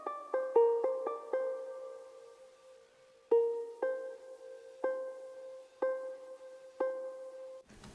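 A chillwave synth patch made in Serum plays clean, bell-like plucked notes, a quick run of several at first and then single notes spaced about a second apart, each decaying slowly through a quiet, voiceless passage.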